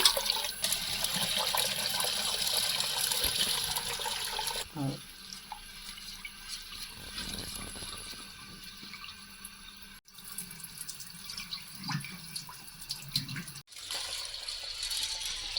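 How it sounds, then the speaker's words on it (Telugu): Water runs and splashes as toor dal is rinsed by hand in a vessel for village-style tomato pappu, a steady close wash with brief pauses, and a voice talks over it. "2 సార్లు మంచిగా నీట్గా కలుపుకోవాలి పప్పుని"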